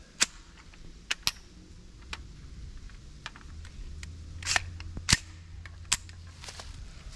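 A PSA KS47 rifle fires a few sharp, sparse shots outdoors, with crisp cracks spread irregularly over a low background rumble and no talking.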